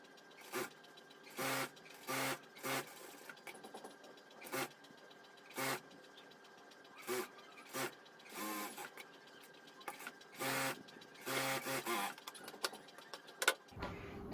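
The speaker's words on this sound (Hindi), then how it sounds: "अब दोस्तों यहाँ पे हमें एक लब की सिलाई लगा देना है।" A sewing machine stitching a bra cup, running in short repeated bursts of rapid whirring stitches with brief pauses between them, close and fairly quiet, with no talking.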